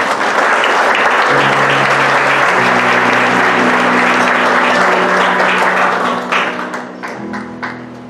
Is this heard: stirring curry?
no